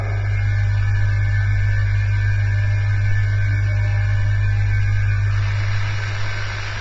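A direct drive motor runs near 3000 RPM, producing a steady, loud, even hum with a constant low drone and faint hiss. The sound has no breaks and is heard alone.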